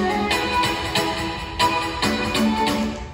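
Synthesizer chords play in rhythmic blocks, bright sustained stabs repeating every half second or so, full and layered with no voices.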